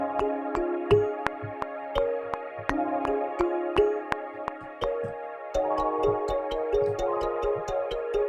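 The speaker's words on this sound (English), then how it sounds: "So I added this high strings and flute mellotron just to give it some kind of background" A lo-fi beat carries mellotron high strings and flute pads as sustained chords under steady drum hits, evenly paced and moderately loud with no voices.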